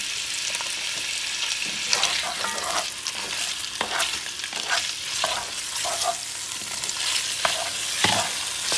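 Creole jambalaya ingredients sizzle steadily in a hot pan while a utensil stirs and scrapes through them, a dense continuous frying hiss with intermittent stirring clatter, close and without talk.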